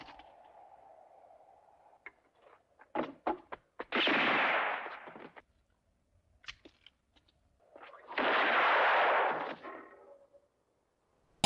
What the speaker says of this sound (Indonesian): El Indio menembaknya dari jendela hingga pistolnya terjatuh